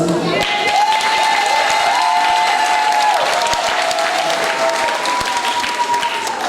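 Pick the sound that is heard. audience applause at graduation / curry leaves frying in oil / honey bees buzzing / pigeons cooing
audience applause at graduation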